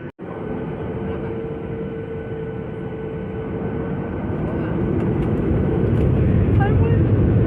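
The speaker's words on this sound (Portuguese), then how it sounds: "Tripulação preparada para decolagem." Airliner engines spooling up on the takeoff roll, a loud continuous broadband roar with a steady tone that swells slightly toward the end, heard from inside the cabin.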